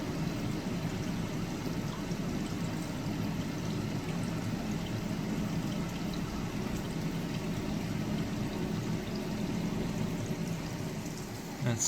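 Creek water flowing in a continuous, even rush with a low, broad churn, steady and fairly close, with no talk.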